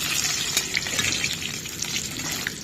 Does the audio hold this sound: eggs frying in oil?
yes